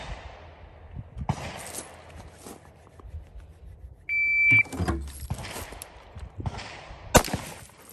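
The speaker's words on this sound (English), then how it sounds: "on the sound of the buzzer, we will go." A shot timer's start buzzer sounds as one loud steady electronic beep for a shooting drill with a Q Honey Badger rifle, followed by sharp outdoor gunshots.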